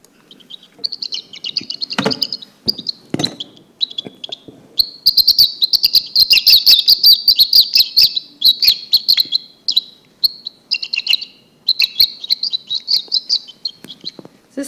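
Recorded mouse ultrasonic calls, made audible, come through as rapid high-pitched chirps and trills in repeated bursts, sounding much like birdsong.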